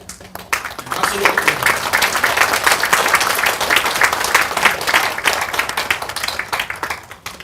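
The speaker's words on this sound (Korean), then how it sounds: "박수로" Audience applause at a documentary screening and Q&A event, a dense, loud round of clapping that builds quickly, holds steady and tapers off at the end.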